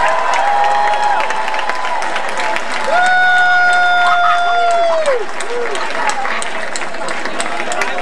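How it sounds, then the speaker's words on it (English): A crowd in Baton Rouge applauds Governor Blanco with loud, sustained clapping, cheering and shrill whistles that continue steadily throughout. "Let's give her a round of applause"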